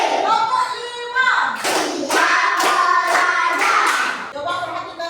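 Children and their teacher in a classroom clap together on a spoken count, making a steady run of five or six crisp claps, near and loud, with voices chanting alongside.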